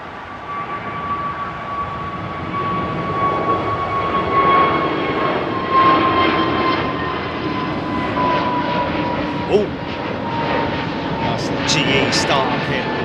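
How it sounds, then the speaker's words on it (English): An Emirates Airbus A380 taxis at a London airport, its jet engines producing a loud, steady whine and roar that holds throughout, with a voice talking over it. "Emirates 380 taxiing out."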